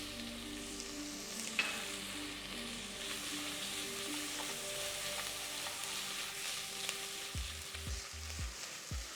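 Garlic and onions frying in oil with a little butter, a steady close sizzle and crackle with occasional stirring, ending in a few low thuds, no talking.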